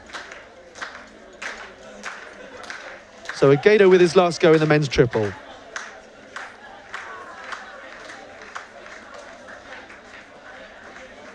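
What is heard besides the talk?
athletes clapping for a triple jumper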